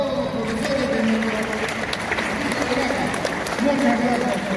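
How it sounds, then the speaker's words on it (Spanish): At a school police swearing-in ceremony, an audience claps for the teachers, a steady burst of applause mixed with crowd noise and voices heard over it. "Un fuerte aplauso para todos los profesores de nuestro"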